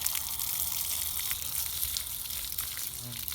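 Water spraying from a hose or shower head onto a rescue dog, a steady hissing broadband spray held close and fairly quiet throughout, with no talk.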